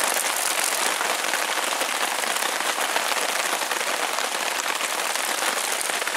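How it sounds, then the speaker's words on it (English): Steady, dense rain patters on a taut tent roof overhead, a continuous hiss of drops with no pauses or voices, at a forest campsite. "getting a good little bit of rain here."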